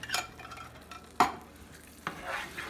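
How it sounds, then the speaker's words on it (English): A spoon scrapes through gravy in a pan as canned cream of chicken soup is mixed in, with three or four distinct stirring strokes over a soft, low simmering sizzle, close and fairly quiet. "So we'll mix that in."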